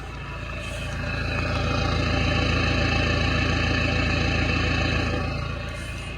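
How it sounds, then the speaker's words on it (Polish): An Alfa Romeo 159 engine with a new turbo idles evenly, a steady low rumble that swells slightly louder in the middle and holds a constant pitch throughout. "silnik pracuje idealnie równo trzyma obroty"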